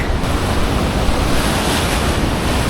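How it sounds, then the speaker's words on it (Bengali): Water rushing from the open gates of Chandil Dam, about seven of fourteen gates open, heard from the bridge above as a loud, steady roar of churning water with wind buffeting the microphone. "দেখুন কেমন জল ছেড়েছে আর এখান থেকে কেমন জল আসছে"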